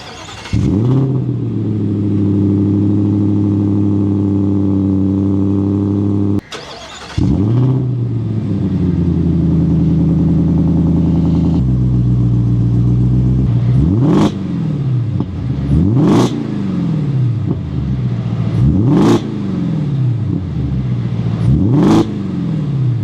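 A Hennessey VelociRaptor 1000, a modified Ford F-150 Raptor R, roars loudly up close with a long held rev. A second sustained rev follows, then a rapid series of sharp throttle blips, each spiking and falling back.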